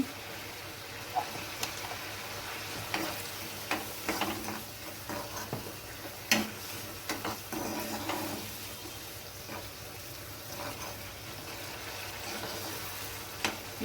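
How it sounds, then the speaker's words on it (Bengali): Hilsa fish gravy bubbling in a pan, a steady low simmer with soft sizzling and occasional stirring clinks and scrapes from a utensil, fairly quiet and close, with no talking. "গ্রেভিটা ফুটে গেছে"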